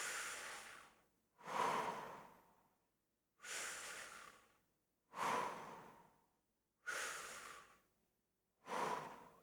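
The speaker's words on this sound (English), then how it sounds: "breathe in" Six slow, deep, airy breaths drawn in and pushed out one after another in an even rhythm, close and clear, with no talking between them.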